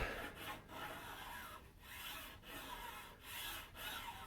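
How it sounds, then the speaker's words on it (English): A fingernail scrapes back and forth over the ridged layer lines of a 3D-printed part, a quiet raspy rubbing in several short strokes separated by brief pauses. "You can probably hear that, my fingernail going over it. Those are the layer lines."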